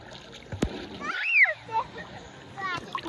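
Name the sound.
water splash in a pool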